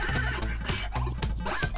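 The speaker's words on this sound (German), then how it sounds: "Das Pferd hört gar nicht mehr auf zu rennen." A horse in the Cyberpunk 2077 video game runs and neighs, with a steady rhythmic galloping pulse and whinnying tones, fairly close and with no talk over it.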